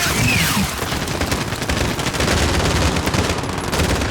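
Sustained automatic gunfire aimed at a helicopter in Call of Duty: Modern Warfare (2019), a dense, loud, continuous rattle of rapid shots filling the whole stretch with no talk over it.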